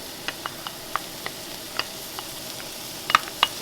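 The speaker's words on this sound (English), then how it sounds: "We're going to go ahead and add our garlic, our large garlic clove that we chopped." Chopped garlic added to onions sautéing in a pot for shrimp and corn chowder, a quiet steady sizzle broken by a series of sharp spoon scrapes and clicks, a cluster near the end.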